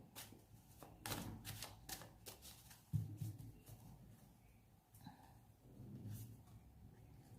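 Tarot cards drawn and shuffled from a deck give crisp, papery flicks and slaps in an irregular run, close by, with soft handling rustle between strikes.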